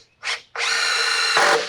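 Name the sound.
screws driven into wood with a power drill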